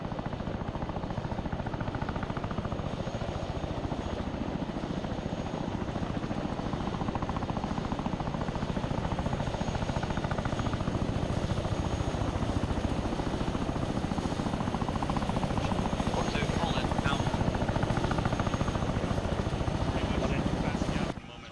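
A military helicopter waiting on the ground during airborne air assault training, its rotor thudding loudly and continuously while troops shout and talk over it.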